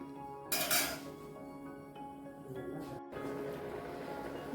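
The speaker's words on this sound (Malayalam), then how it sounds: "ജസ്റ്റ് ഒന്ന് ഇളക്കി കൊടുത്താൽ മതി ഇനിയും ഈ ശർക്കരപ്പാനിയിൽ കിടന്ന് ഈ അട നല്ല പോലെ ഒന്ന് വരട്ടിയെടുക്കണം" Ada being stirred in jaggery syrup in a pan, with clinks and scrapes of a metal spoon against the pan, a brighter clatter near the start, then steady quieter stirring.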